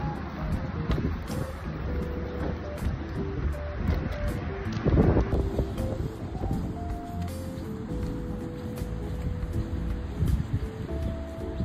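Strong, very cold wind buffeting and roaring across the microphone in downtown Banff, Alberta, steady and loud with rustling gusts throughout.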